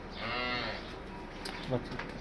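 A Cholistani Friesian cross dairy cow on a Pakistani farm gives one loud, drawn-out moo near the start, followed by quieter farmyard noise and a brief knock.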